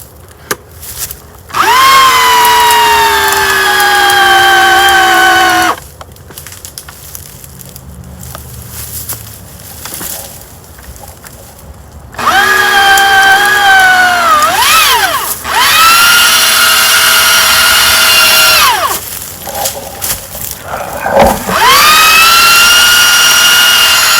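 A Warn winch motor whines loudly while pulling a tree out of a creek, running in long sustained bursts with a pause between pulls and short stops and restarts.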